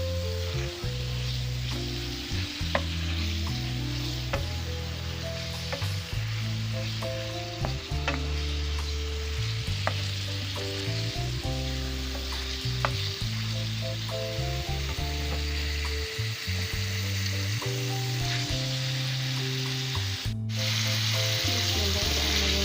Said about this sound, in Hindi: चिकन की बुनाई हो गई है ऑयल में और लहसुन अदरक में